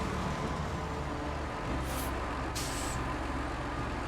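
A truck in a video game drives past in the snow with a steady low engine drone, and two short hissing bursts like air brakes rise over it.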